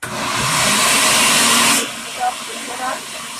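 A blender making rice milk roars loudly for under two seconds, then cuts off abruptly, leaving a few quiet spoken words.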